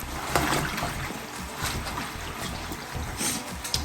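Picked fever leaf greens being washed in water: soft sloshing, trickling and light splashing in a bowl or sink, quiet and continuous with small swishes, no voices.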